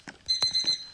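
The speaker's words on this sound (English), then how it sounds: "Oh, almost forgot to turn off my alarm clock." A bedside alarm clock rings in the morning with a series of sharp, close electronic beeps in a quick, repeating pattern in an otherwise quiet room.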